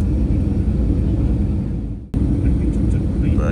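Airliner cabin during a landing approach in Indonesia, with steady loud engine roar and rushing air throughout, a brief sharp dip and thump partway through, then the heavy droning noise resumes.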